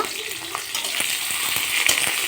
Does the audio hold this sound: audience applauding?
no